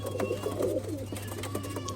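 Faqeer Gull pigeons coo in a loft, soft repeated throaty warbles close by over a steady low background hum.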